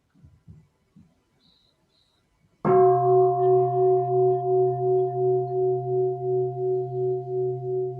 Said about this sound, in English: we will have one sound of the bell to start again